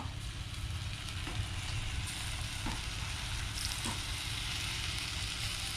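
Continuous crackling sizzle of takoyaki batter frying on a hot pan, steady and close, with a few faint clicks and knocks of utensils.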